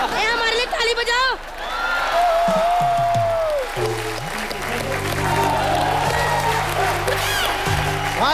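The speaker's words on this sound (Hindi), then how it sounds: "ए हमारे लिए ताली बजाओ।" Studio audience on a Hindi TV comedy show claps and cheers, broad crowd noise swelling and holding with whoops over it, while people's voices come through across the applause.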